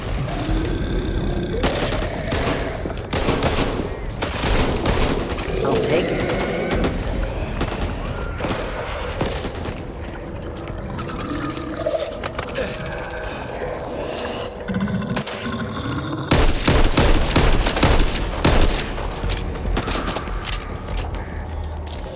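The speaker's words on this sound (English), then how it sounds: "Assault rifle." Sustained assault rifle fire in the zombie shooter Back 4 Blood, dense rapid bursts with constant loud crackle and background game action, continuing across the whole stretch.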